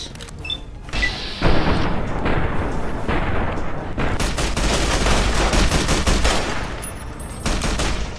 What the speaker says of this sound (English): I like how they shoot them a couple more times just for good measure.